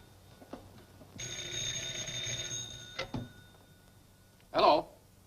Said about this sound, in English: it's the gate phone